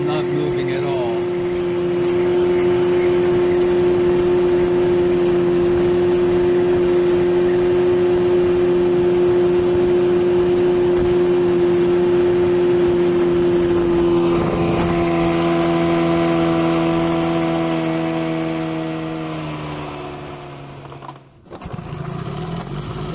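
A 1975 Evinrude 25 HP outboard motor runs steadily on a boat test run, a continuous buzzing hum with a strong steady pitch that shifts slightly midway, then cuts out near the end.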